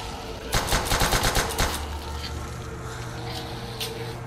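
Rapid automatic gunfire rattles in Call of Duty: World at War Zombies, a short burst of about eight evenly spaced shots, fairly loud and close, then fading into quieter game ambience.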